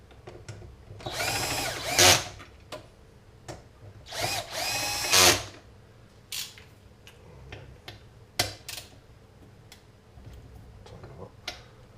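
A power drill driving six screws into aluminium parts during assembly, two whirring bursts of a couple of seconds each, then short blips and ticking clicks as the screws are tightened, close up.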